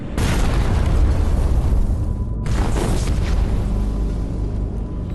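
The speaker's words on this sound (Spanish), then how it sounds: "escuchan una explosión" A WWII submarine torpedo strikes the transatlantic liner Neptunia, producing a loud, deep rumbling explosion that rolls on for over two seconds, then a second powerful blast follows after a brief pause, with no voices.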